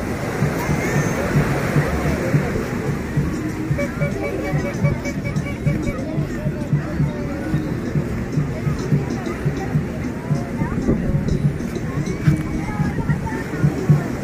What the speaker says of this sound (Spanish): Ya pasaron las olas. Fueron como 4 olas seguiditas, grandotas